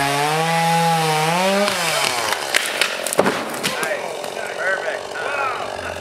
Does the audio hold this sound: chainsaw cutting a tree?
yes